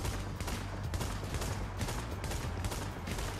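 Rapid gunfire from The Division video game rattles on in continuous bursts throughout, dense and loud with no pause.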